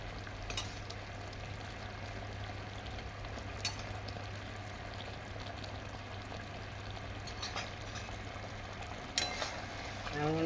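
Mango pieces for a sweet mango pickle fry in hot oil, making a faint, steady sizzle with a low hum underneath and a few light scrapes and clicks from stirring.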